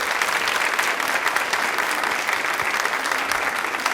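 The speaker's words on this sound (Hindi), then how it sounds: "तालियां अपने लिए प्लीज बार जोरदार बजा दें।" Loud, sustained applause from an audience at a Women's Day special programme in Rajasthan, a dense continuous roar of clapping.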